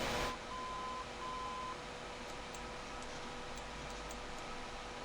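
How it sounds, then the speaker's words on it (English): Faint, intermittent cockpit warning beeps from a Boeing 707 in a flight simulator game sound over a steady hiss of engine and cabin noise, with no voices. "What is this beeping?"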